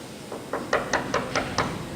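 Six knocks on a door in a quick, evenly spaced series, each sharp and close, growing slightly firmer after the first couple.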